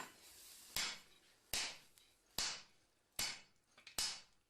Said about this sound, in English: The last folds have to be flattened with a mechanical hammer.